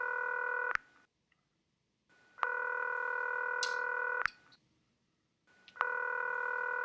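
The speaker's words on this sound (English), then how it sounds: "Let's make that call to Tammy." Telephone tones on an outgoing call: three long, steady electronic tones, each lasting over a second, separated by silent pauses, clear and alone with no talking.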